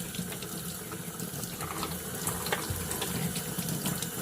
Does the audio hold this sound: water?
yes